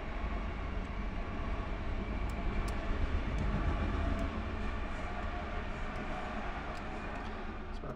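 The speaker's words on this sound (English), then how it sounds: "Heard my noisy train go by" A train rumbles past with a steady low roar and faint clicking of wheels on rails, holding constant throughout.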